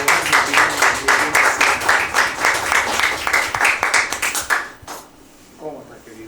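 An audience claps loudly at an educational talk on the voice, a crowd's rhythmic applause that fades out near the end, followed by a brief voice.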